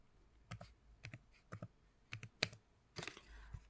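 A computer keyboard is typed on while code is written, giving short separate bursts of key clicks, quiet and close, in an uneven rhythm.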